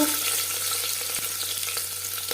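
Chopped onion and tomato sizzle steadily in hot refined oil for a mutton and potato curry, a dense, even frying hiss with faint stirring clicks.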